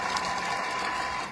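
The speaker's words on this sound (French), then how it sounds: "je vais mettre 3 secondes, de nouveau, hein, c'est très peu de secondes, à la vitesse 5. Et il va me mixer." A kitchen food processor running at speed 5 for a few seconds to chop onion gives off a steady, close whirring and mechanical rattle. The sound holds level throughout the short burst, and no one speaks.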